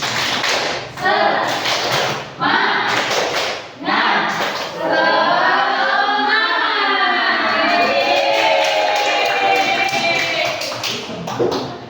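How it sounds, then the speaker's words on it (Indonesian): A classroom of pupils performs a rhythmic "tepuk semangat" clapping chant, loud bursts of claps alternating with shouted chanting voices, then a long sustained group chant near the end. "kita tepuk semangat dulu. Tepuk semangat."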